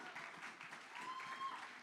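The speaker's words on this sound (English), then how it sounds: "let's clap for it." A church congregation clapping together in a large room, a steady dense patter of applause heard at moderate distance.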